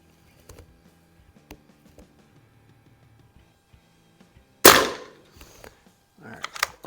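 A Beeman Raider .177 PCP air rifle fired at a range, one sharp loud crack standing out after quiet handling clicks and faint talk, followed by a few more clicks and thuds.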